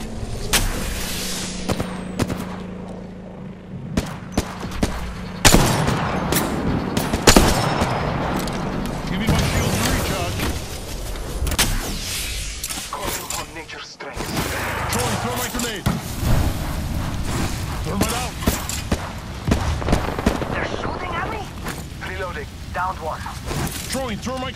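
Constant gunfire and explosions in the battle-royale shooter Apex Legends, dense cracks and booms throughout with a player talking over the fighting.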